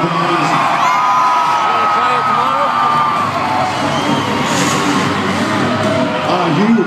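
A loud, dense arena crowd at a Monster Jam freestyle show cheers, whoops and shouts continuously, with children's yells rising out of the roar and an announcer's voice running through it.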